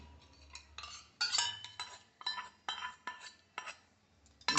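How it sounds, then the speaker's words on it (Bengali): Ginger garlic paste is mixed into a yogurt marinade for Muradabadi white biryani, with a spoon clinking and scraping against a metal bowl. The stirring comes in irregular bursts, close and crisp, with no voices heard. "ওর সঙ্গে আমরা আদা রসুন বাটাটাও মিক্স ভালো করে মাখিয়ে নিচ্ছি"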